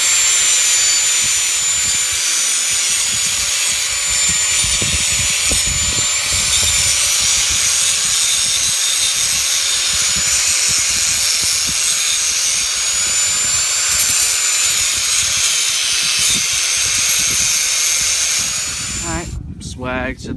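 Angle grinder cutting and smoothing a metal exhaust pipe for a side exit on a Nissan 240SX, a loud continuous high-pitched whine held steady for about nineteen seconds before cutting off abruptly near the end.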